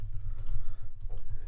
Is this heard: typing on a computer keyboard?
yes